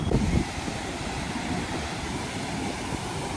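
Sea waves wash onto the shore at Puri beach, a steady broadband roar with wind buffeting the microphone, loudest in the first half second and then holding as a constant surf wash.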